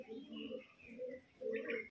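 A pigeon kept for sale coos close by in two soft, throaty, rolling phrases with a brief pause between them.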